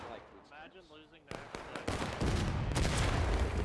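Artillery and musket fire in the Civil War game Ghosts of Antietam, faint at first under a voice, then sharp cracks and rising dense booming volleys filling the second half.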